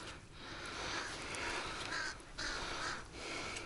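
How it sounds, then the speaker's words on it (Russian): A crow caws repeatedly outdoors in a snowy winter village, its harsh calls rising over steady background noise at moderate distance, with no talking. "Вон даже ворона прилетела"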